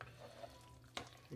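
A spoon stirs a chicken broccoli rice casserole in a pot, a soft scraping and shuffling close by with one sharper clink near the end, quiet and without talk.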